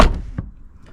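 A Porsche Boxster car door shuts with a sharp close thud at the start, followed by a lighter knock and fading rattle.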